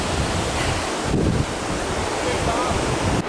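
A powerful river rushes in a steady, loud broadband roar, with wind buffeting the microphone throughout.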